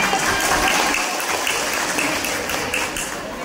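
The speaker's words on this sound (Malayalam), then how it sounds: "അപ്പൊ എല്ലാരും ഒന്ന് കൈയടിക്കട്ടാ" An audience at a community women's group anniversary event claps together, a dense steady wash of applause that fades slightly toward the end, with no voices over it.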